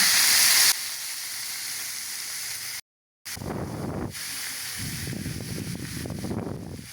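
Leafy greens dropped into hot oil with panch phoron and fried chilies in a home vegetarian kitchen, a soft steady sizzle and hiss with a brief gap, then stirring crackles swelling in bursts.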